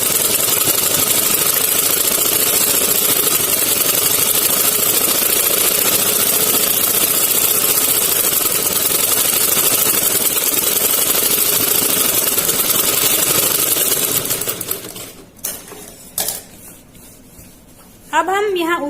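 A sewing machine stitches salwar fabric in a steady, loud, continuous mechanical whir that runs unbroken for most of the clip, then stops and gives way to a few scattered knocks and handling sounds near the end.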